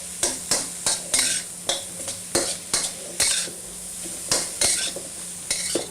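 Garlic and vegetables stir-fried in a hot pan for restaurant-style pork fried rice, with a steady sizzle broken by about a dozen sharp scraping, clanking stirs of utensil against pan, close and loud.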